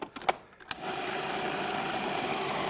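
A blender grinds corn into a puree: a few short knocks, then the motor spins up into a steady, loud whirring grind that holds to the end.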